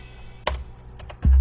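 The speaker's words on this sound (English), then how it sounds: "What you heard there was me pressing the keyboard and it triggered our sounds." A few sharp computer keyboard taps, each triggering a short punchy beat sample in beat-making software, ending on a loud low thump.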